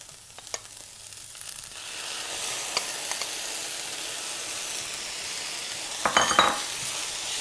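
Vegan crumble of vegetables sizzling steadily in a frying pan as marinade is poured in, with light clinks and scrapes of a utensil against the pan, the hiss swelling slightly after the liquid goes in.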